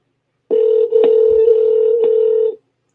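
A Skype outgoing call ringing tone sounds as one steady, loud electronic tone lasting about two seconds, close and clean, with silence before and after and no talk.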